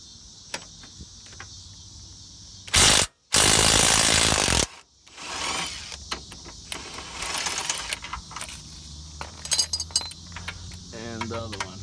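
A ratchet wrench with a 17 mm socket works on a 2011 Mazda 3's suspension, giving a few loud bursts of rapid clicking, then scattered metallic clinks and lighter ratcheting.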